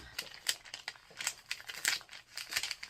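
Paper crinkles and rustles in quick, irregular bursts, close up and fairly soft, with no voices.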